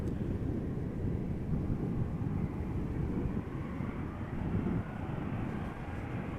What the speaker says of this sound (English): E2 Embraer 195 up next, going to Inverness, KLM flight 923.